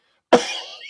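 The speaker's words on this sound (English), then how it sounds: "Listen to the cough coming at him." A single sharp cough bursts out close by after a moment of silence, followed by a raspy, airy trailing exhale, heard alone without talk.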